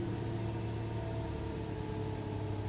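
A 2017 Daihatsu Sigra R car engine idles with an even, low hum that holds steady throughout and is not joined by any talk.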